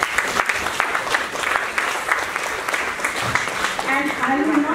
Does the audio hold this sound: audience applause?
yes